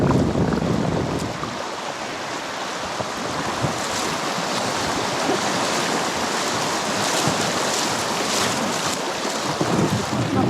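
Strong tailwind gusts over a packraft on the Ivalojoki river in Lapland, a constant broadband rush of wind buffeting the microphone mixed with water noise, loud and unbroken, with no talk.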